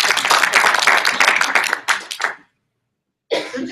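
Audience applause during a live stream from Napa Valley, California: a burst of dense, loud clapping for over two seconds tapers off, drops to a short silence, then resumes briefly.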